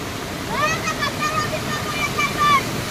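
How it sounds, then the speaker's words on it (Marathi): Floodwater from heavy monsoon rain pours through farm fields in a broad, steady rush, with splashing and a voice and other voices heard faintly over the flow. "ह्या पूर्ण शेतातून पाणी जात आहे"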